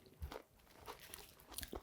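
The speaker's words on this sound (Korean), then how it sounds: "자, 그럼 이번에는 통밀 샌드위치를 제가 한 입 싹 먹어보겠습니다" Close, crisp crunches of someone biting into and chewing a whole wheat sandwich with cabbage, carrot and tomato, several short crackly bites at irregular intervals, quiet and without talk.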